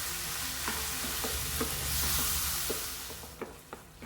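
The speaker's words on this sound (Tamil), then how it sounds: "நல்லா ஒரு 5 நிமிஷம் தக்காளி நல்லா வேகிற வரைக்கும் கிளறி விடலாம்." Tomatoes with fennel powder frying in a pan for egg-tomato thokku, with a steady close sizzle as a utensil stirs them, scraping and tapping in scattered knocks that grow more distinct toward the end.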